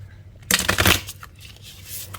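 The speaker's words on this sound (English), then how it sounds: "Maybe one more shuffle." Tarot cards being shuffled in a short burst of dense riffling and flapping, close and crisp, fading to quieter handling afterward.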